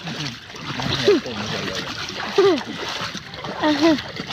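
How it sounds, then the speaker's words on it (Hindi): Rushing floodwater splashes and churns as someone wades through a rain-flooded street mixed with sewer water, a continuous loud wash of water under frequent talking voices. "ये देखिए इस पानी से गुजर के हमें जाना है"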